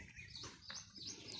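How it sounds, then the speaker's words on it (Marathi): Sparrows chirping at backyard bird feeders in Buldhana, a steady overlapping chatter of short bright tweets repeating throughout at moderate distance, with no voices. "दररोज इथं सकाळीच चिमण्यांचा किलबिलाट असतो।"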